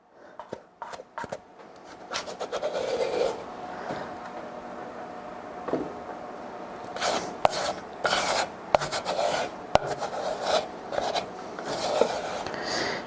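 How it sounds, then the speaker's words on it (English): Protein cookie dough scraped off a spatula, a series of close rasping scrapes and rubbing strokes in irregular bursts, with small clicks and knocks between them and no talking. "scrape this off the spatula"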